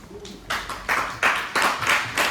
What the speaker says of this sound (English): let's give a big round of applause to our speaker, Brian, and Jerry, and also Clara for the demo